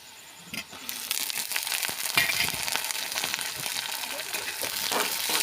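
Dried fish dropped into browned onions frying in oil, giving a loud, steady crackling sizzle that rises after a brief quiet start and keeps going with scattered pops, with no one speaking.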